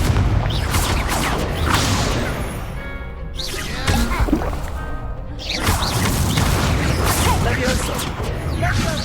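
The Incendio fire spell cast in Hogwarts Legacy produces loud roaring, crashing blasts of flame and impacts that run almost continuously, with someone repeatedly speaking under the din.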